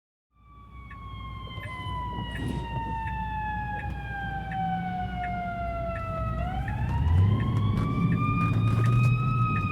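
A fire truck siren wailing in a long descending then rising sweep, loud and sustained for several seconds, heard from inside a car on the road with engine and road noise underneath.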